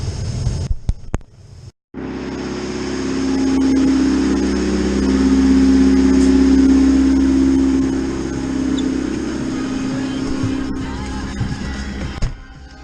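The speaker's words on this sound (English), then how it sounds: "my exhaust is cut off right at the fucking header, so that's why it's loud like that" A Mitsubishi Lancer 4G63T engine with its exhaust cut off at the header runs loud and raw after a brief pause, holding a droning, slightly rising and falling idle before cutting off abruptly.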